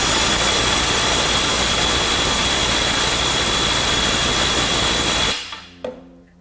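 A DeWalt DCF890 compact impact wrench hammers loudly and continuously at high torque, a dense roaring rattle that cuts off abruptly near the end, leaving a few faint clicks.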